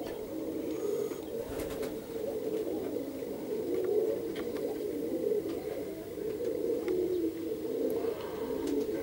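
Pigeons in Perm give soft, low cooing that runs continuously in a fairly faint, steady murmur, with occasional faint clicks and rustles throughout.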